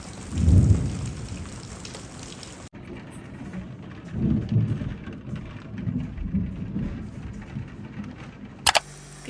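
Thunderstorm with rain over a village: a loud low rumble of thunder opens, then steady rain patters on surfaces while further softer rolls of thunder sound in the distance, ending with a couple of sharp clicks.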